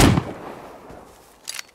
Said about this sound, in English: Oh, I'm getting shot at.